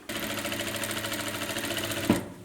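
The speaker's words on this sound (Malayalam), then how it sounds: "എന്നിട്ട് നമുക്ക് ഇത് സ്റ്റിച്ച് ചെയ്തെടുക്കാം" Sewing machine stitching the slit of a churidar, a fast steady mechanical whir with rapid needle ticks, close and loud, ending with a short clunk as it stops.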